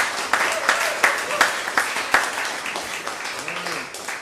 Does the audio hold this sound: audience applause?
yes